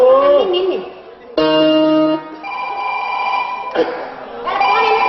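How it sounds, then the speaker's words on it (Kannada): Phone ringtone playing a bright electronic melody of sustained tones in short phrases, loud and close, heard during a Kannada folk stage play. "ಫೋನ್ ರಿಂಗ್ ಯಾವುದು ಟೂನ್ ಯಾವುದು ನನಗೆ ಗೊತ್ತಾಗಂಗಿಲ್ಲ"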